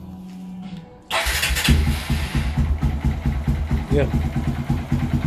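A 2015 Honda XR150L motorcycle, started cold, cranks and catches after a short quiet stretch, then settles into a loud, near, rhythmic thumping idle while someone speaks briefly over it.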